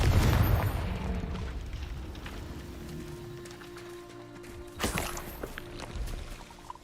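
The Confringo blasting spell in Hogwarts Legacy lands with a deep rumbling boom at the start. The rumble fades into a low hum, then a second sharp burst hits a few seconds later, followed by fainter rumbles.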